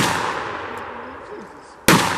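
A revolver fires a .38 Special round at an outdoor shooting event: a loud, sharp crack near the end, following the echoing tail of an earlier shot that fades over the first part.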